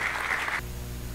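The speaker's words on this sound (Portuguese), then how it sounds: "Uma salva de palmas para ele, por favor." Applause for a guest at the opening ceremony of an international congress, a dense burst of clapping from the audience lasting about half a second before cutting off to a low room hum.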